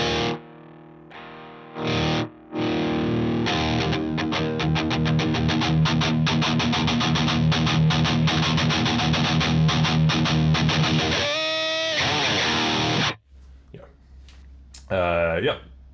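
Electric guitar played through a Line 6 Helix preset with drive rings out in sustained, distorted chords with chorus-like shimmer, stopping and restarting, with brief voice sounds near the end.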